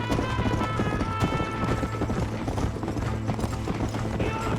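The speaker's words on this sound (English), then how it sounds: "Nadie le gana a mi caballo." Horse hooves gallop in a steady, rapid clip-clop rhythm during a race in the Red Dead Redemption video game, loud and continuous, with game music tones running beneath.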